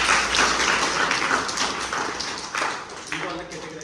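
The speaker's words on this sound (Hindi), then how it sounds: "वेरी गुड, ताली बजाओ भाई।" A group of children claps in a school cleanliness-awareness session, a burst of quick, uneven applause that fades and flares again, heard together with people talking.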